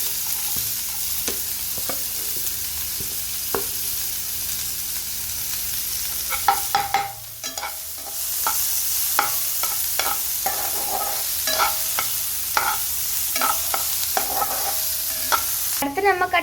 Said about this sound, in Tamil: அடுத்து நம்ம கட் பண்ணி வச்சதை எண்ணெயில் போட்டு வசக்கணும்.